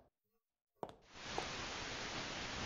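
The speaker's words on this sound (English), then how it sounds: "Ah, some good old white noise." After a brief near-silence and a small click, static from a radio in a horror video game switches on, a steady, flat hiss of white noise that holds evenly to the end.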